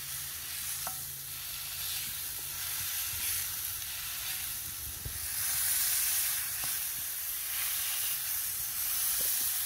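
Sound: smash burger patties sizzling on Big Green Egg griddle

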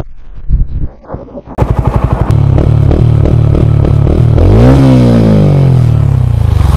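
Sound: TVS Ronin single-cylinder motorcycle exhaust popping

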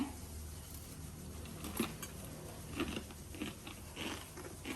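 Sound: crunching bite of crispy deep-fried fish

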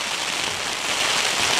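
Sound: heavy rain on a tent during a wild camp

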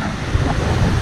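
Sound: river rapids, rushing water

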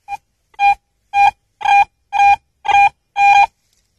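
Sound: AT Pro metal detector scratchy signal tone

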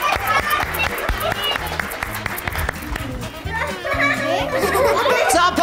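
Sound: audience applause

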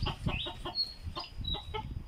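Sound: chicken clucking

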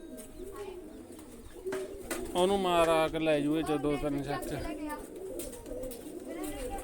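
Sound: pigeons cooing

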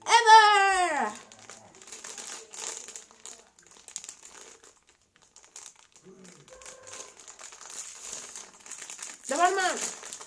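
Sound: unwrapping a Christmas present, wrapping paper crinkling

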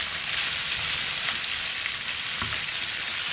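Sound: diced tomatoes sizzling as they are added to the pan

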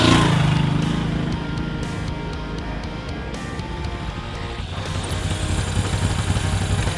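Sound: Moto Guzzi V7 Stornello motorcycle riding

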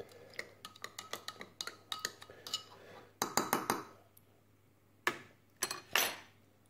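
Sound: stirring a Dutch MRE combat ration meal

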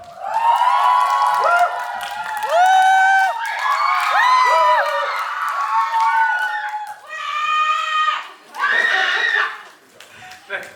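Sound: audience applause and cheering at a film stage greeting

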